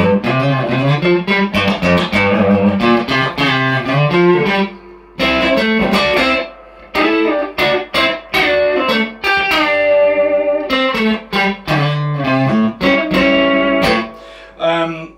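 Electric guitar played through an overdrive pedal with every control set at noon, a loud, close, moderately driven tone with sustained chords and short bursts of notes separated by brief pauses, heard alone.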